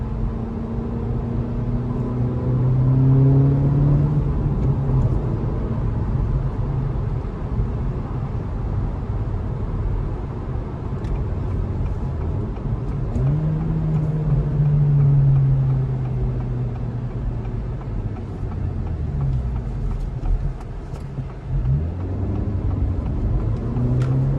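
A 2023 Acura Integra A-Spec with a six-speed manual accelerating in sport mode, its engine note rising and falling in steady pulls as it shifts, a continuous close-up cabin drone with no talking.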